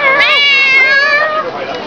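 A person imitates a cat, producing a drawn-out, high-pitched meow close to the listener.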